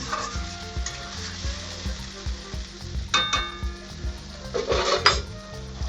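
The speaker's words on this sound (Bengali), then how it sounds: "ভালো করে নাড়াচাড়া করে কষবো মশলাটা।" Spice paste for a village-style young goat mutton curry fries and sizzles in a pot while being stirred, with steady scraping strokes and a few sharp metallic clangs of the spoon against the pan, close and fairly loud.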